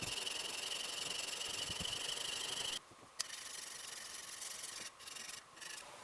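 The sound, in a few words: plane iron being flattened on a 400 grit diamond stone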